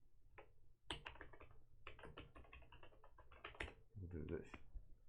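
Rapid, irregular clicking of keys on a computer keyboard, typed in quick bursts at close range over a steady low background hum.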